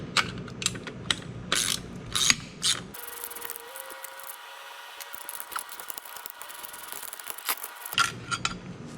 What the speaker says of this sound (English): I quickly got to messing around and took this thing apart.